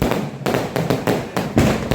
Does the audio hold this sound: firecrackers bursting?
yes